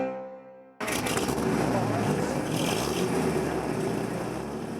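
A front-engine two-door sports car engine roars into a sustained loud rev after a short quiet lead-in, holding a dense, steady drone for several seconds with no talking.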